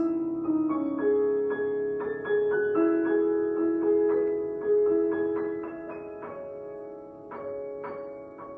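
Piano notes ringing into one another with the sustain pedal held, tones overlapping and blurring as a steady, flowing passage from Shostakovich's Prelude and Fugue in E Major plays on.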